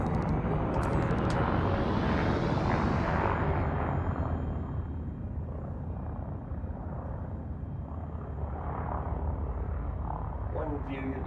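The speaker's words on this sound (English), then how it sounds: "with the usual engine startup request" A spaceship's engines start up in Elite Dangerous with a loud, steady roaring rumble and a rising whine that fades as the drive settles into a constant hum, with someone speaking over it.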